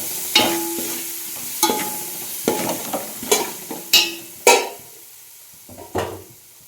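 A spoon stirs pasta sauce with tomato ketchup in a large cooking pot, giving a series of separate scraping and clinking strokes against the metal at an uneven pace, close by and with a faint sizzle under them.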